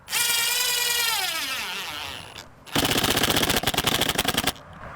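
A power drill driving screws into PVC window trim: a long whine winding down as the screw seats, then after a short pause a second, louder burst of rapid ratcheting clatter, close and clear.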